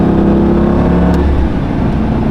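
Lamborghini Gallardo with E-Gear transmission revving on a downshift, a loud, close engine roar that holds steady then dips slightly as revs settle, with no talking.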